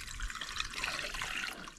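Water pours into a car engine's cooling system, a near, steady splashing trickle that runs through the whole stretch and eases slightly at the end, with no talk.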